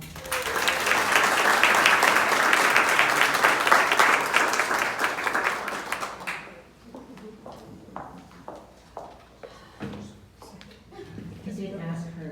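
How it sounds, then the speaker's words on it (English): Loud applause from a crowd at a ceremony honoring women veterans and servicemembers for about six seconds, then it dies away into scattered claps and footsteps. "Let's give a round of applause."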